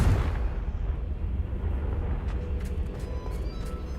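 A Confringo blasting spell in Hogwarts Legacy goes off with a sharp blast at the start, followed by a deep rolling rumble and scattered crackling debris that slowly settles.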